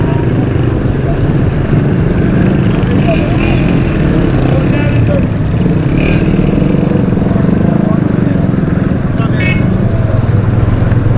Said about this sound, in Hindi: देखें कितनी स्लो स्लो मोटरसाइकिल चल रही है,